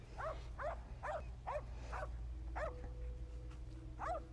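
Scenthound barking up a tree at a UKC hound event, a rapid series of sharp, high barks, steady and moderately distant, over a low constant background hum.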